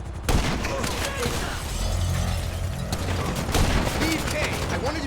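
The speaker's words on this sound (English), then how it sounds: "There's guys shooting at you, Mikey!" Gunfire in Grand Theft Auto V during a helicopter hostage mission, a dense continuous spray of shots and impacts that stays loud throughout, with a few sharper bursts standing out over a busy game soundtrack.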